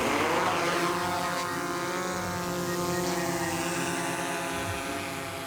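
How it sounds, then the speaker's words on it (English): A drone carrying a multispectral camera flies nearby, its propellers giving a steady, loud whine with strong tonal harmonics that shift slightly in pitch as it moves, alone with no talk. "let me show you how to use this drone with a multispectral camera"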